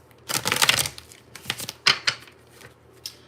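Oracle cards from a Ghetto Messages deck being shuffled by hand, a longer rustling riffle followed by several shorter papery slaps and flicks, close up, with no speech over them.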